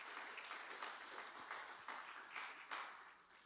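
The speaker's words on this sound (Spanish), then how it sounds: "Dale un fuerte aplauso a Dios." A congregation applauds during a church service, a steady wash of clapping with a few sharper swells, fairly faint and distant-sounding throughout.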